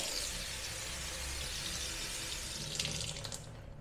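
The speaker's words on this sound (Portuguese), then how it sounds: "Tem aqui a torneira" A simple kitchen sink faucet runs in a steady, close rush of water, with a brief brighter splash near the end and no voices.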